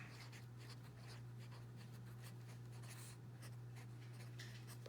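A title being written on paper with a pen or pencil, giving faint, continuous scratchy strokes over a steady low electrical hum.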